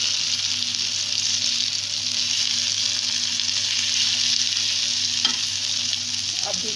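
Lentil kebabs (dal kebabs) frying in a pan give off a steady, dense sizzle that holds at an even level throughout, with no voices over it.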